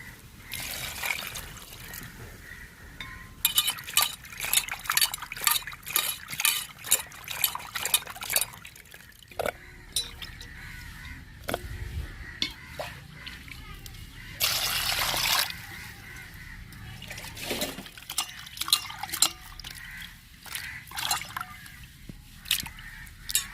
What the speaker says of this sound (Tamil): நாலு கருவாடு வெட்டி வச்சிருக்கவங்க இப்போ கழுவி எடுத்துக்கிறோம்